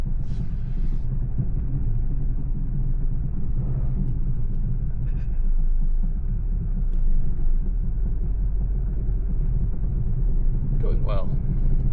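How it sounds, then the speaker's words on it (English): A Ford Focus driven slowly on a flat tyre, giving a steady low road rumble and engine drone throughout, with faint occasional knocks and a brief sharper noise near the end. "I'm quite content with driving very slowly to the workshop with its flat tyre"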